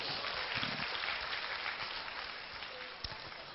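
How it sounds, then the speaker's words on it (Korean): A high school church service congregation claps, a steady moderate wash of applause that slowly tapers, with a sharp isolated knock near the end. "박수 한번 치세요."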